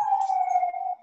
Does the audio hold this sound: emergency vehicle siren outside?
yes